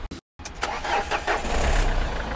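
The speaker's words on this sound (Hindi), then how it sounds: "सेल्फ मैं खुद मारने जा रहा हूँ" A 2016 model car in a Delhi second-hand car market is started with its self-starter: a brief crank, a short silence, then the engine catches and settles into a steady idle hum close by, with no voices.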